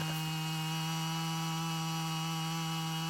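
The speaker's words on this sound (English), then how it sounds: "Hours of chainsawing with the Husky 55." Husqvarna 55 chainsaw running steadily and loud, a continuous close engine drone throughout with no voices.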